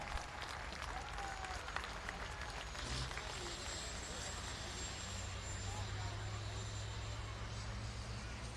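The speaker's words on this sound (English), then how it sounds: "Let's give him a round of applause." Crowd applause at a semi truck race on high-banked oval, broad steady clapping and cheering spread across a large outdoor grandstand, mixed with engine drone and loudspeaker talk.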